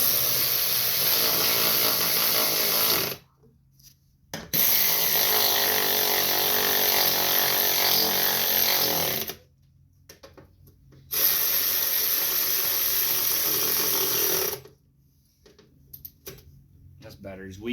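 Bolts are driven back onto a John Deere S170 riding mower deck with a power tool, three long whirring bursts separated by short pauses.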